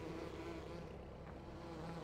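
Bees buzz around a beehive on a farm in Farming Simulator 15, a steady droning hum that holds even and continuous throughout, with no talking.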